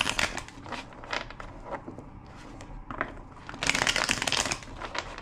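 A deck of tarot cards being shuffled, giving dry papery riffles and soft crackling bursts in uneven waves, close and moderately quiet with no talking.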